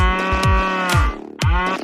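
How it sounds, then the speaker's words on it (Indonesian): A cow moos loudly and close by in a short, drawn-out call with a brief break in the middle, and no other sounds alongside. "Ini sapi."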